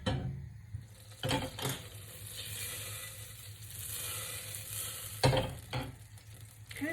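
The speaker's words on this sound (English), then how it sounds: "I'm just going to heat up my saucepan, putting my butter in" Butter melting in a hot saucepan while making a soufflé, giving a faint, steady sizzle with a few quiet clinks and stirring knocks.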